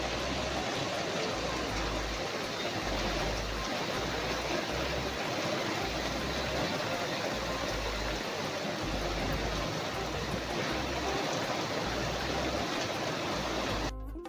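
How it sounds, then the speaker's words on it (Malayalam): Steady heavy rain pours outside a home on a rainy morning, a dense continuous hiss with a low rumble, constant and fairly loud throughout with no voices. "വെളിയിൽ മഴ തകർക്കുന്നുണ്ട്. രാവിലെ തുടങ്ങിയ മഴയാണ്."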